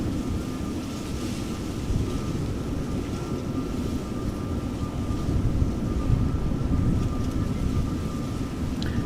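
Delta Air Lines Airbus A330-300, twenty years old, lining up for departure at Amsterdam Schiphol, a steady low engine rumble with a thin constant whine, swelling slightly midway, no voices.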